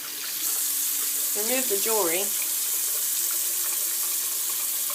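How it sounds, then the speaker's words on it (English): A tap runs into a sink in a steady, even rush of water while a person speaks over it. "Turn on the water."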